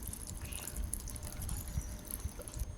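Water pours into a container for a date and nut morning drink with honey and walnuts, a close, continuous trickling splash lasting a few seconds with no talking.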